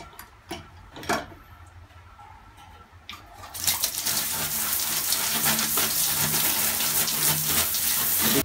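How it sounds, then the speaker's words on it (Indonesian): Water sprays steadily onto a fishing reel to rinse it, a dense broadband hiss starting abruptly after a few seconds of quiet clicks and handling taps, then holding loud and continuous to the end. "setelah ini disemprot dengan air seperti ini"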